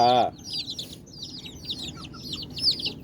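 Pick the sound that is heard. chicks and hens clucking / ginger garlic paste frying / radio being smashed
chicks and hens clucking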